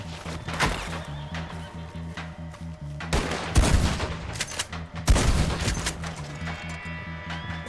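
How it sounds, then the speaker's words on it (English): Gunfire from building windows in Battlefield V, repeated sharp shots and bursts over a droning background, with two heavier blasts standing out amid ongoing battle noise. "Guess they're shooting out of windows now."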